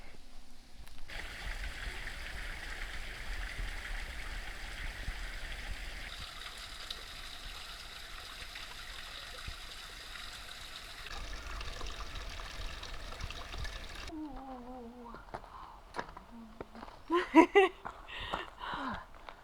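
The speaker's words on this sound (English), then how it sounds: "it looks like we found where the waterfall is." Steady rushing water from a small waterfall in Tasmania, a constant broadband wash for most of the time, then quieter as voices talk nearby toward the end.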